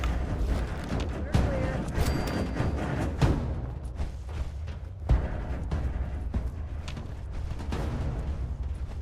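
Continuous gunfire in the post-apocalyptic game Fallout 76, dense bursts and booms layered over a steady loud rumble, with a voice talking over it.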